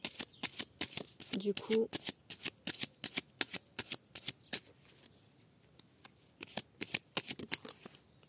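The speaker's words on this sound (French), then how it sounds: "J'essaye de les mélanger doucement, histoire de ne pas abîmer la tranche." A deck of oracle cards is shuffled gently by hand, giving a steady run of crisp, close riffling flicks, with brief quiet speech partway through.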